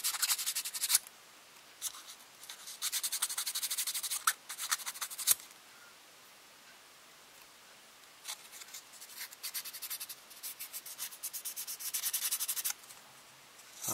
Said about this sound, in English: let me get a sanding stick here, or a sandpaper at least